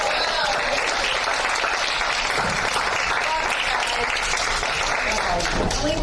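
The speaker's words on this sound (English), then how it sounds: "Let's all give another round of applause to Phyllis." Applause from an audience at a KC Regional meeting, honoring someone, a steady dense patter of many hands filling the whole stretch with people talking underneath.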